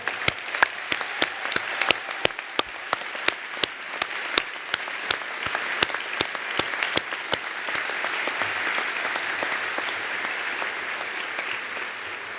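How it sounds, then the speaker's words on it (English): Graduates and guests at a doctoral engineering commencement applaud, with sharp, loud individual claps close by at first, then a denser, even roar of clapping that carries on for over ten seconds. "Please give yourselves and your fellow graduates a huge round of applause."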